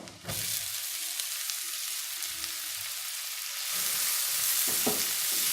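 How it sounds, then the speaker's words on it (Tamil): Chopped onion, finely cut ginger and garlic sizzle and fry steadily in a pan, a continuous close crackle that grows slightly louder partway through, with a few soft stirring knocks. "நல்லா வெங்காயத்தை வதக்கணும்."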